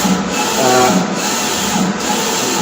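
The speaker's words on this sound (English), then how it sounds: "as your material is being rolled down, as the printer is printing" A PL 1.8 eco-solvent wide-format printer runs steadily while the material rolls through, giving a continuous mechanical whir with faint periodic carriage passes, close and unbroken, with no voices.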